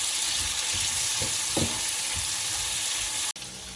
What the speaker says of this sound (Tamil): இப்போ எல்லாத்தையும் நல்லா மிக்ஸ் பண்ணி வதங்க விடுவோம்.